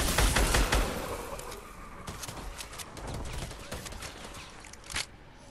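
Gunfire in the Fortnite battle royale game, a rapid volley of shots up front, then scattered single reports and a sharp final shot against a busy game background.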